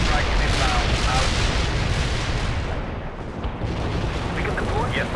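Anti-tank strike explosions in the wartime strategy game World in Conflict, a dense, loud barrage of booms and rumbling blasts rolling on without pause, with faint voices under the din.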